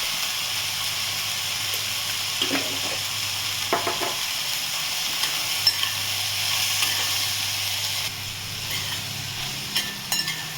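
Cluster beans sauté over medium gas with turmeric, coriander powder and salt, giving a steady close sizzle with scattered stirring scrapes and no talk.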